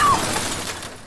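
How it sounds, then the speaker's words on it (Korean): A car is smashed in a film scene: a sharp, close shatter of breaking glass and metal that bursts loudly, then fades away within about a second. "마사는 홧김에 대뜸 테드의 차를 부수기도 했습니다"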